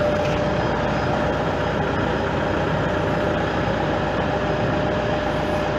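A light vehicle's common rail diesel engine idles close by, a steady, loud, even rumble with no change in pace over the few seconds.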